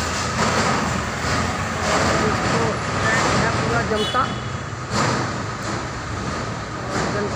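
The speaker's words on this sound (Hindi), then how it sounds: "जनता की ये पहचान है दोस्तों, रेलवे की शान है वैग 12 इंजन।" A WAG-12 electric locomotive shunting at a railway station gives a steady, loud rumble and hum that runs the whole time, with a voice talking over it.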